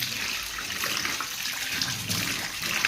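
Water runs steadily from a tap as chicken is washed for pakoda, a continuous close splashing flow with no pauses.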